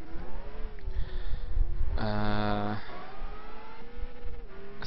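Arta NSX race car in a racing video game at the Nurburgring GP circuit, its engine droning steadily with rising and falling pitch, a brief louder high-revving burst in the middle, under someone talking throughout.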